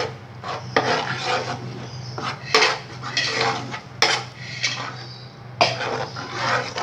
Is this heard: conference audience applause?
no